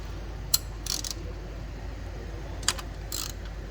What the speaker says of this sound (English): Then we'll use this 13 millimeter to break this loose.